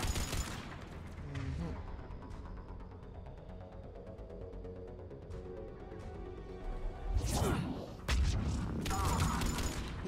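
Gunfire and a concussive shot sound in the video game Mass Effect 3, with scattered bursts, mechanical clatter and a couple of heavier impacts near the end over a busy background.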